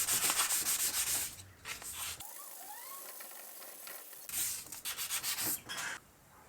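Sandpaper rubs back and forth against a metal cat-back exhaust pipe being polished, giving a close, gritty scraping in rhythmic strokes that stops briefly and then resumes.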